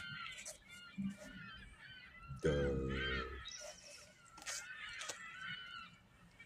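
Seagulls call outside in a burst of loud, harsh, nasal cries that swell midway and then trail off into scattered squawks, with a person's voice briefly heard nearby.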